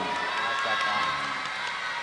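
A live religious talk audience cheers and claps as a crowd, a steady, dense wash of voices and applause that carries evenly and fairly loudly throughout.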